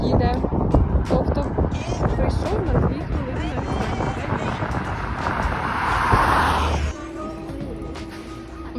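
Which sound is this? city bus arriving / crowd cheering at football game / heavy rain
city bus arriving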